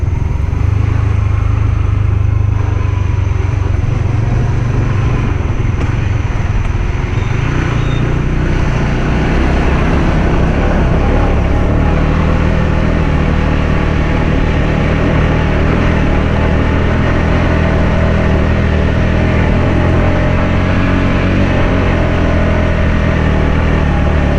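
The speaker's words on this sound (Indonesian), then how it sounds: "kita uji motor ini dengan torsi" Honda CB150X motorcycle engine revving on a Jakarta-to-Bali road trip, a loud, continuous low engine roar with shifting pitch, close by and alone with no talk over it.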